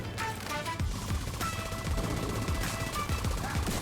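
Rapid bursts of gunfire in the video game The Division 2 crackle continuously, dense repeated shots and impacts layered over a busy, loud mix.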